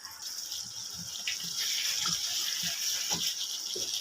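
Water poured from a cup into a pan of cooking chicken karahi, a soft trickling splash with faint gurgles, quiet and close with no talking.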